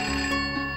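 A mobile phone ringtone rings steadily and loudly in a domestic TV drama scene, a sustained melodic electronic tone filling the short moment with no talk over it.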